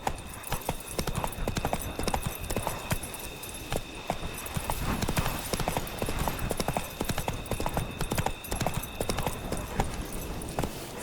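Hooves pound in a fast, continuous galloping rhythm as a horse runs in The Witcher 3: Wild Hunt video game, loud and close, with faint game ambience beneath.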